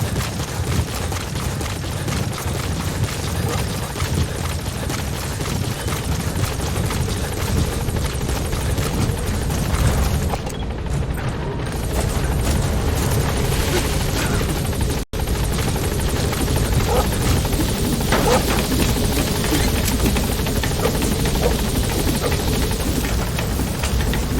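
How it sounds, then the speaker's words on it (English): Support helicopter in Metal Gear Solid V arriving and hovering close by: a loud, continuous rotor thumping and turbine roar that holds steady throughout, with a short gap partway through and no voices. "Support helicopter has arrived."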